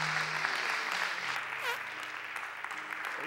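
A church congregation claps hands in praise during a worship service, producing a dense, continuous burst of applause with a faint voice underneath.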